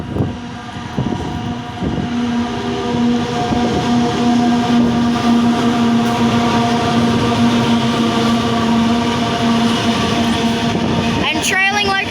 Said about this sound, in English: We've got a Janice and Wyoming coal train about to pass through platform number